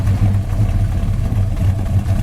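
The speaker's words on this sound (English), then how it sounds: "Here's your dual exhaust sound coming out the back." A 1972 Chevy Nova SS idles with a deep, throaty dual exhaust rumble, steady and close, pulsing lightly without revving.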